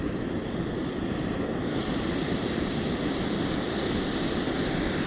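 A Fire Maple Lava multifuel camping stove burner runs with a steady, even roaring hiss throughout, close and constant.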